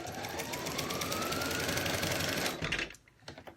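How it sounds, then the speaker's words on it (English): Sewing machine running steadily as it stitches along the seam edge of a quillow, a constant near whir with rapid needle rhythm for about two and a half seconds before it stops. "Let's see if my machine can do it."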